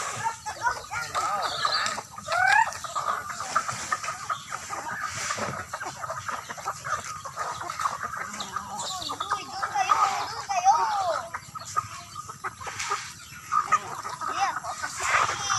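Chickens cluck on a Philippine farm where ducks are also kept, with repeated clucks scattered through an outdoor scene and people talking nearby.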